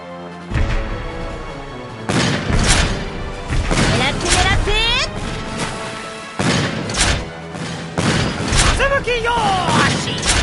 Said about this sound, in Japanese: みんな大砲を構えろ。